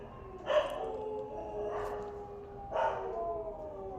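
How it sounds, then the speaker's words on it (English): Several dogs bark and yelp in three separate bursts, spaced apart and moderately loud, each with a slightly howling, drawn-out tone over steady background hum. "that's just the dogs, don't worry."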